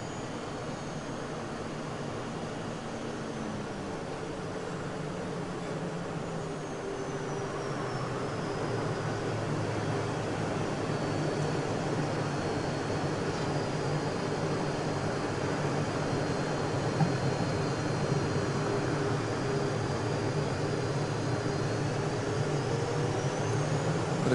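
Airbus A350 on approach to landing during its first landing, a steady distant engine roar and rushing whine that grows slightly louder and shifts in pitch as it passes, continuous throughout with no talking.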